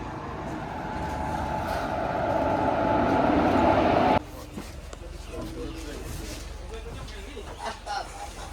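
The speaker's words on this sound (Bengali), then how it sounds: "অবশ্যই আমাদের ট্রেন চলে এসেছে" A passenger train on the Azimganj–Krishnanagar line pulls into Azimganj Junction, a loud rolling rumble building steadily for about four seconds before cutting to quieter platform ambience, with voices speaking nearby throughout.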